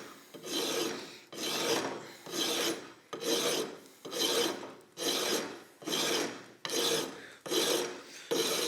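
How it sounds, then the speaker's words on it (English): A coarse file hogs material off a wooden A.H. Fox shotgun stock, heard as about nine loud, rasping strokes in a steady back-and-forth rhythm, each stroke roughly a second long with brief pauses between, and no voices. "I've got my biggest file, coarsest file in the shop."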